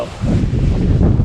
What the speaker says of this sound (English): it's getting rather windy, and it's probably not doing the sound very good